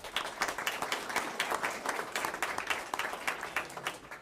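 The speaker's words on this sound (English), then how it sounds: "if we could give them another round of applause" An audience at a school board meeting applauds student spelling bee qualifiers, a steady round of many hands clapping at moderate volume, with no voices over it.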